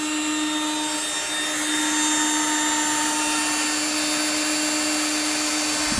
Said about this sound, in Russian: Сверли.